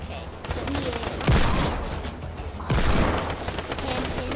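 Heavy gunshots from the hand cannon pistol in the video game Fortnite, two loud booming blasts about a second and a half apart over a constant dense background of game noise.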